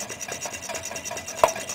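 An upside-down Stirling engine runs at about 360 RPM, a quick rhythmic rubbing, rasping beat repeating roughly six times a second, close and fairly loud.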